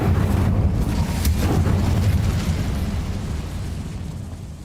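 Incendio fire spell cast in Hogwarts Legacy, a loud rumbling burst of flame with a crackling whoosh that sustains and slowly fades over several seconds.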